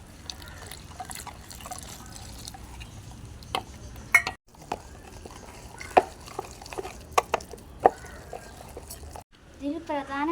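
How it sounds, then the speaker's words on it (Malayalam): Water poured and stirred into a ground pepper spice paste in a bowl, with intermittent drips, splashes and clinks under a person's speech. "നമുക്കിത് വെള്ളം ഒഴിച്ചെടുക്കാം."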